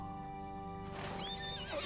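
A horse in the online game Lord of the Rings Online lets out a loud, clear whinny over a sustained tonal background, with a faint scuffle of hooves beneath.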